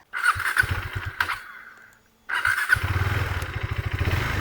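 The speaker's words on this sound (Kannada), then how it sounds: "ಇವಾಗ ಗಾಡಿ ಆನ್ ಆಗುತ್ತೆ ಆನ್ ಆಗಲ್ಲ ಅಂತ ಅಲ್ಲ ಫುಲ್ ಆನ್ ಆಗುತ್ತೆ" A KTM Duke 390 motorcycle low on petrol cranks and starts with a short squeal, cuts out briefly, then fires again and settles into a close, loud, rhythmic idle.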